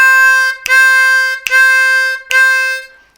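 Four separate blown notes on a C harmonica, each a steady harmonic-rich tone with a sharp attack, played in an even row at close range with no talk.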